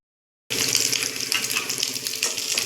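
Prawns frying in hot oil in a pan for a home-cooked prawn fry, a loud, steady sizzle that bursts in abruptly and crackles on continuously with no voices.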